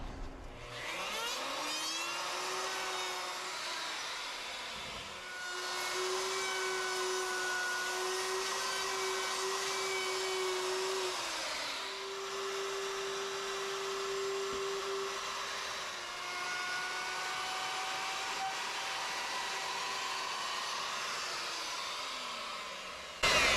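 A power tool whines as it rounds the edges of a wooden flag gun case, a sustained high-pitched motor tone in several long passes that dip and rise in pitch as the cutter loads into the wood, with no talking.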